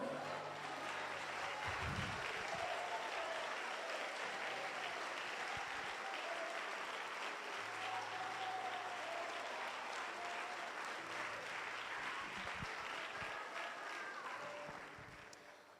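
A church congregation applauds for a long stretch, the many-handed clapping sounding fairly faint and roomy over soft sustained musical tones, then tapering off near the end.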